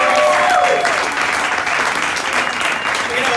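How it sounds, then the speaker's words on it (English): Loud, continuous audience applause fills the Savoy during a comedy fundraiser show, a dense wash of clapping from a close crowd, with a brief whistle or voice rising near the start. "Give a round of applause for the Savoy"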